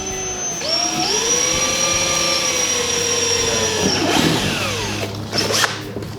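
A power drill bores a hole through a car bumper to fit quick-release bumper fasteners: one steady, loud, high-pitched whine that holds for about three seconds, then cuts off into a few clattering knocks.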